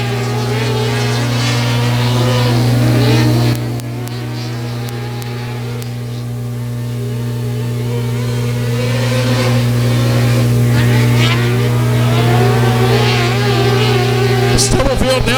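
Race cars circle a dirt speedway, their engines droning loud and steady throughout with a rising surge near the end, while a track announcer talks over the roar.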